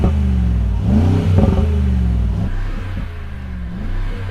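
A Rolls-Royce engine revs during a sound check, a smooth mid-pitched drone that swells and rises in a couple of blips, loud and steady throughout with no talk.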